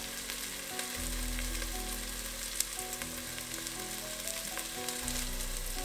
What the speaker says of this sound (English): To assist the onions in turning golden brown, a tip is to add a little salt,